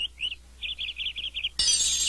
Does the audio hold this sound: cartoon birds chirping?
yes